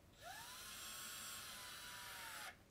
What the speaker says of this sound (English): Sliding the coupler into the airframe to around the halfway point, we can now make our first drill hole.